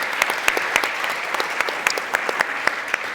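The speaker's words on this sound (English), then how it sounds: "It deserves a round of applause." Applause from the audience for a Rising Star Summit panel, steady dense clapping with sharp individual claps standing out, continuing throughout.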